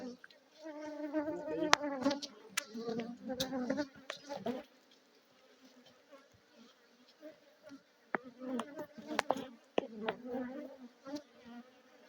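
Honeybees buzz steadily at a professional hive in Yamoussoukro during a harvest inspection, a dense insect drone with sharp clicks and knocks of equipment, loudest early and near, fading in the middle before returning.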